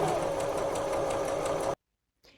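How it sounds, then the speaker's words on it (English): A sewing machine runs steadily as it stitches a fabric sample, a close, even mechanical whir with rapid needle rhythm that stops abruptly, followed by a brief faint rustle. "So far I like my stitch, and I'm gonna start sewing on my project."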